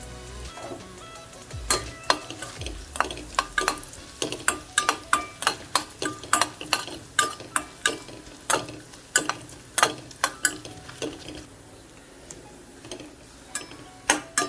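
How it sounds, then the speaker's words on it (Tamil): Coconut pieces crackle and pop while frying in hot ghee, a sizzling background with sharp irregular snaps throughout, close up and without talk. "தேங்காய் துண்டு துண்டாக அரிஞ்சு போட்டு இப்படி வறுத்து சேர்த்துருங்க"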